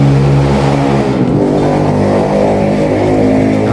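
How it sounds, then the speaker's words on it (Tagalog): A motorcycle engine drones loud and steady nearby, its pitch dipping briefly and then holding a continuous rumble with no voices. "Ingay ng motor."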